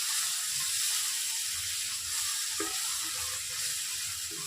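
Ginger paste with turmeric fries in oil for a chicken fry, a constant bright sizzling hiss with faint low stirring scrapes underneath, steady and close throughout.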